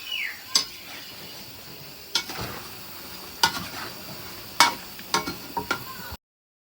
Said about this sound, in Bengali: এই যে এখন ভাজা পোড়া করবো